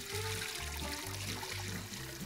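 Water poured into a pot over an outdoor campfire while cooking a wild-game stew, a steady close trickle and splash with low gurgling bursts throughout.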